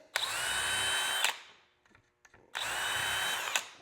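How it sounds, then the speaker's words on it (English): Power drill boring hinge holes in inset RTA cabinet hardware with a drilling jig: two loud, sustained whirring bursts about a second long each, separated by a short pause with faint handling clicks. "So I just set my drill in there."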